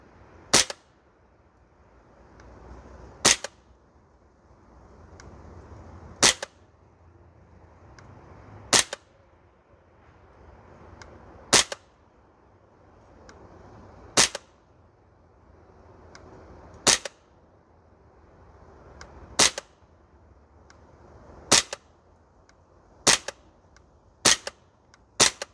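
An Archwick APC9K Pro gas blowback airsoft rifle fires single sharp shots on a range, evenly spaced about every three seconds, then quickening into a closer pair and a triple toward the end, over quiet outdoor background.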